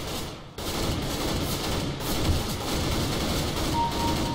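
Gunfire in the video game Counter-Strike, a sustained rattle of rapid shots after a brief pause near the start, loud and continuous throughout with no talk.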